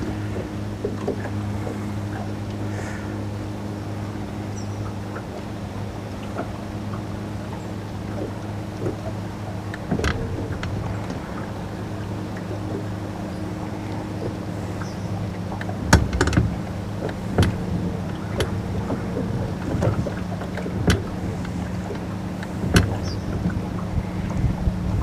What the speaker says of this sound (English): I just slowed the boat down a little bit with the trolling motor